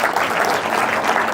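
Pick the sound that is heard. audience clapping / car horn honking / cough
audience clapping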